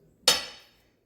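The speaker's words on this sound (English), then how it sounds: "that's my red bell pepper that I am chopping" A single sharp clink of a knife striking a plate while chopping red bell pepper, bright and close, decaying quickly into silence.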